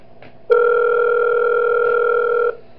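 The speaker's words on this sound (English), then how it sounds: "I'm gonna play out the phone call again just to hear that tip about something." A phone call starting in the video game Those Nights at Wario's 3, heard as a single steady electronic dial-style tone lasting about two seconds, loud and clean with no talk.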